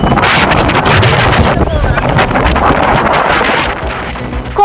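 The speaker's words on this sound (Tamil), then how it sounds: "சென்னையை அடுத்த பூந்தமல்லியில் வீசிய புழுதி காற்று." Dust-laden wind gusting in Poonamallee near Chennai, loud and buffeting, with heavy rumbling roar and microphone wind noise throughout.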